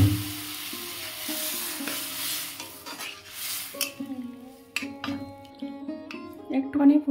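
Chili, garlic and turmeric crackle in hot oil for a dal tempering, a steady sizzle with occasional utensil clinks and stirring scrapes, close and moderately loud, with brief voice in the background.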